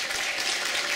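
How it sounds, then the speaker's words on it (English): Brief burst of audience applause at a player summit workshop, a dense wash of many hands clapping at moderate distance, lasting about a second. "Give him a round of applause, Jeff Smith."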